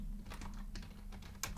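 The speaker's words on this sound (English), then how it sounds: "I'm just typing." Steady computer keyboard typing during an online finance forum session, a run of quick clicky keystrokes at close range with a sharper tap near the end, no talking.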